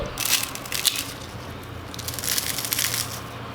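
Fried rice-flour kurdai snapped by hand in a kitchen, giving several brittle crunching, crackling bursts close up, with quiet pauses between breaks and no talking.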